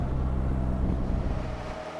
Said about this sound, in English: It was absolutely a privilege driving this Bentley blower from 1930 around the Silverstone Classic circuit.